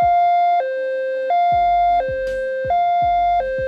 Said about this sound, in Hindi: high-low sound